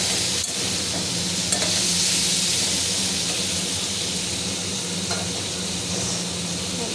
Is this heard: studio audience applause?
no